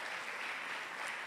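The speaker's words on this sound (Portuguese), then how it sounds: "vamos dar uma linda salva de palmas para Jesus" A church congregation gives a brief round of applause during a worship service, a soft, steady patter of clapping heard only faintly.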